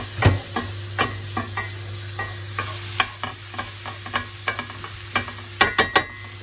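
Soft, continuous sizzle of stuffed potatoes and sausage cooking in a Philips Airfryer XXL, with scattered clicks and taps of a utensil stirring, fairly quiet and without talk.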